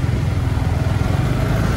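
A motorcycle engine runs steadily in heavy stop-and-go traffic, a continuous close low rumble with faint surrounding vehicle noise and no speech.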